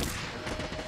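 Light bowgun fire in the video game Monster Hunter World, a dense run of loud, close shots and thuds packed together across the whole second with no pause.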